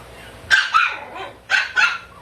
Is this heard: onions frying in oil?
no